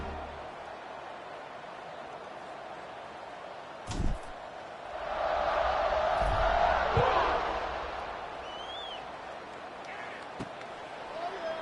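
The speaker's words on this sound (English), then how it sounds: "this crowd is buzzing after that last score" A football stadium crowd at a college game between Cincinnati and Iowa State buzzes steadily in the distance, swelling into a louder roar midway before easing back, with a sharp thump early and a commentator's voice running faintly underneath.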